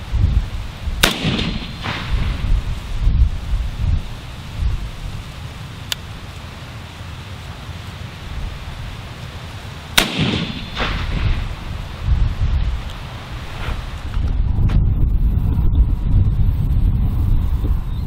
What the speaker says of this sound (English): We're shooting the same Federal Premium Gold Medal Match ammo from our 3-round grouping earlier.